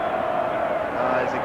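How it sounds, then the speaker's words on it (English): Stadium crowd at a 1984 VFL Collingwood football match roaring steadily for a player, a dense, continuous wall of cheering throughout with a commentator talking over it. "But listen to the crowd. They love him."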